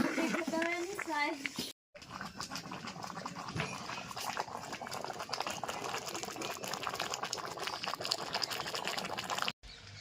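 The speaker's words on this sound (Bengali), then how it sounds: "চিকেনে জল দিয়ে দিয়েছে ফুটতে শুরু করেছে" Chicken and potatoes bubble in water in a pot, a steady boiling hiss heard under people talking, with a dog barking briefly near the start.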